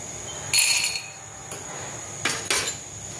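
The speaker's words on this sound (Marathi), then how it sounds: "शेंगदाणे भाजून घ्यायचे।" Peanuts being dry-roasted in a pan over a gas flame, heard as a few sharp bursts of rattling and scraping as they are tossed and stirred, with quiet pauses in between.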